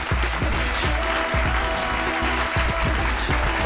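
A studio audience on a talk show applauds to welcome actress Angeline Malik, a dense, continuous clatter of clapping that stays loud throughout, with faint tonal music beneath.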